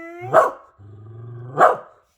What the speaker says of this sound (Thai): เห่าทำไมอ่ะเห่าทำไม